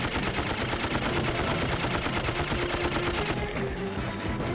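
A turret fires in the video game Ratchet & Clank: Up Your Arsenal. Rapid continuous machine-gun rounds hammer loud and dense for the whole stretch.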